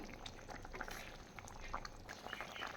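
A rui fish mustard curry simmers in a pan, its liquid bubbling softly and continuously with faint popping, close and quiet with no voices.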